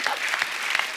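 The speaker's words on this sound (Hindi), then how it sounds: "तालियां तालियां।" Studio audience applause on a Hindi TV comedy talk show, a steady wash of clapping with a few sharper claps standing out, filling the whole short moment with no talk over it.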